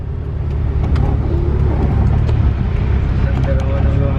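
Interior of a Mitsubishi Lancer Evo VI Tommi Mäkinen edition on the move, a loud steady engine and road rumble filling the cabin, with people talking over it.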